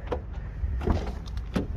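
A door on a new BMW opens with a few soft clicks and thuds of the latch and hinge, close by and quiet, with no talk.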